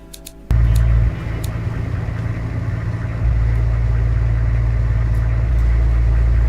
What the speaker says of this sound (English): I guess we should test drive the cars, huh?